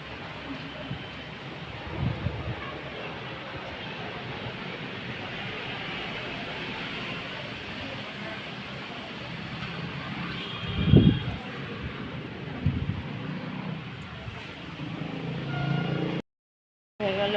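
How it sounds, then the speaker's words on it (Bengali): Strong storm wind blows steadily as a broad, continuous rush for the whole stretch, with a brief low gust or thump near the middle. "হাওয়া তেমন হচ্ছে উড়িয়ে যেতে"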